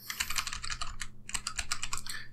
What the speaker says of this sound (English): So I don't get any clicking sounds. The keyboard is awfully close to